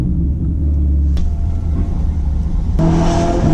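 A Ferrari GTC4 Lusso drives through London, its engine a deep steady low rumble close by, with brief shifts in pitch as the revs change and no talking.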